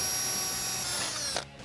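A power drill bores a 7/32 inch hole in a metal bump stop mount on a Jeep Wrangler JK during a lift kit install, a steady high whine that drops off sharply near the end.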